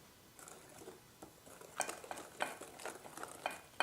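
Cupcake batter for blueberry cupcakes whisked in one direction in a bowl, soft wet stirring strokes with clinks of the whisk against the bowl, quiet and close, growing more rhythmic toward the end.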